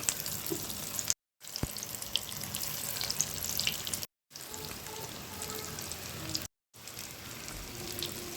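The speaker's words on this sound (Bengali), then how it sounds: "তেলটা গরম হয়ে গেছে, এখন টিকাগুলো একটা একটা করে ভেজে নিব" Beef tikka kebabs fry one by one in hot oil, giving a steady, close broadband sizzle that runs throughout, with a few brief hard cuts.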